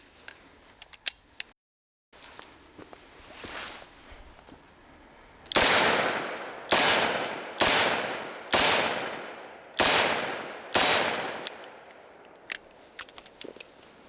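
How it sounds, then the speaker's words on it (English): Six loud, sharp gunshots from a Smith & Wesson Performance Center Model 19 Carry Comp .357 Magnum revolver firing Sig Sauer Elite Performance rounds, spaced about a second apart, each with a ringing decay, after quieter handling clicks. "the gorgeous Smith & Wesson Performance Center Model 19 Carry Comp. We've got it loaded right now with Sig Sauer Elite Performance 357 Magnums"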